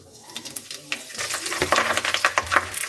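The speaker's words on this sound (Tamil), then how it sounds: "இந்த கீரையை இந்த நெய்யிலே போட்டு வறுத்து எடுத்துக்கணும்" Fresh moringa leaves roast in ghee in a pan, with a crackling sizzle broken by repeated scraping stir strokes that grow busier and louder in the second half.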